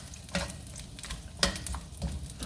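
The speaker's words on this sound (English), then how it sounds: "Anytime you're stir frying anything, you want it nice and hot." Vegetables sizzle and crackle in a hot pan, with occasional scraping stirs and clicks over the steady frying hiss.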